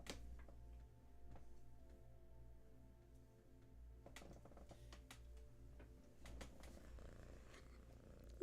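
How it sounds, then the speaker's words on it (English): A kitten purrs softly and continuously up close in a quiet room, with a few faint ticks and taps scattered over the low rumble. "A little bit of purring for you all."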